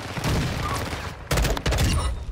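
Rapid bursts of video game gunfire from a military shooter, dense and loud, with a short pause before a second, sharper volley of shots.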